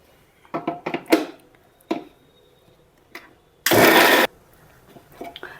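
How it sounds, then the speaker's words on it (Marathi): A kitchen mixer grinder whirs in one loud burst of about half a second while grinding coriander into a gravy paste, preceded and followed by scattered clinks and knocks of utensils in a quiet room. "हे सगळं ह्या मिक्सरच्या भांड्यामध्ये टाकून घेते आणि छान अशी ग्रेव्ही बनवून घेते"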